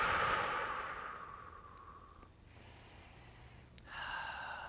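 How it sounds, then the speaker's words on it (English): Deep belly breathing, a long slow exhale followed by a pause and another breath, soft and close in a quiet room. "take a couple of deep breaths in the belly"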